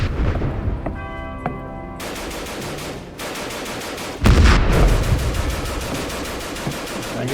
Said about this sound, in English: I hear the maximum machine guns